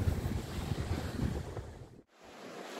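Sea waves and gusting wind roar at night on the Clacton shore beside the pier during a fishing session. The surf and wind rumble is steady and close, then cuts off abruptly near the end, leaving a quieter background.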